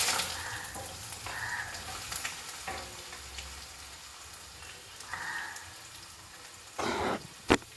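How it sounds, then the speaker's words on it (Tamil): Finely chopped onions dropped into hot oil for a chicken gravy, a soft crackling sizzle with occasional stirring bursts and a sharp clatter near the end, close and fairly quiet. "எண்ணெய் காஞ்சிடுச்சு, வெங்காயம் போட்டுருவோம்."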